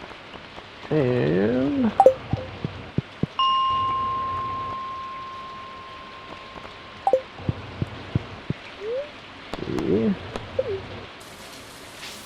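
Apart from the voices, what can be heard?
rain falling in the video game Stardew Valley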